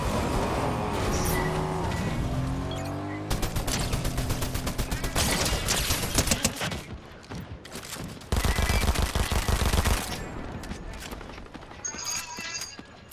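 Dense Fortnite gunfire crackles in fast, loud bursts through the middle of the stretch, with a steady rattling volley later on and a player talking over parts of it.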